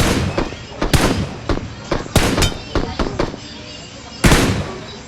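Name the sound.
gunfire in a video game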